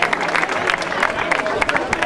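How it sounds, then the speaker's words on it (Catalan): A crowd at a canicross race prize ceremony claps steadily for a winner, a dense patter of applause with murmuring voices throughout the short stretch. "un fort aplaudiment per la Corina"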